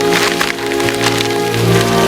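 Rain falls in an animated Spider-Man cartoon scene, a steady, dense hiss of drops that runs continuously under a low humming musical bed, with no voices.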